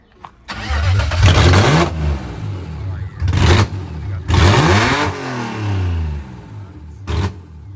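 A car engine revs hard in loud bursts, roaring up and dropping back between throttle blips, close by with no talking.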